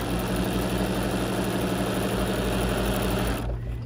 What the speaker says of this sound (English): now I'm going to repeat sewing on my straight line for this side